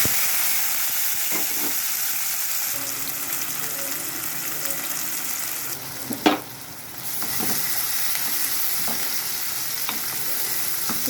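Onions fry in oil in a kadai with a constant bright sizzle and steamy hiss, broken by a few stirring clanks and one louder knock midway; no one speaks.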